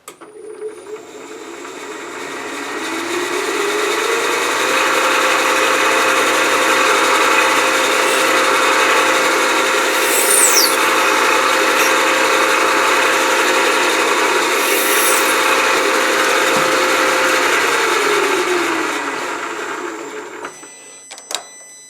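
A power drill runs steadily for about twenty seconds, a continuous whirring grind that ramps up at the start and winds down at the end, with no talking.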